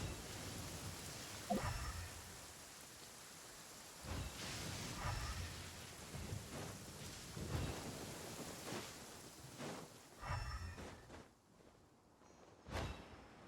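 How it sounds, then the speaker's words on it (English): Rain and thunder from the Genshin Impact video game during a character quest: a steady, faint wash of rainfall broken by several soft rumbling thunder swells spaced a few seconds apart, with no voices. "Don't stay out in the rain for too long."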